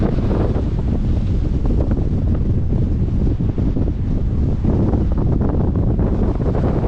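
Strong wind at Shelter Bay, Colón, buffets the microphone in a loud, constant roar that barely lets up.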